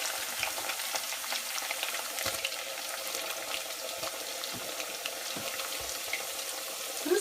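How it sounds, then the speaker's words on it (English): Plantain chips fry in very hot oil on high heat, giving a steady, moderately quiet sizzle with faint crackles and a few sharper pops throughout, no voices. "It's basically you fry them in really hot heat, so on high."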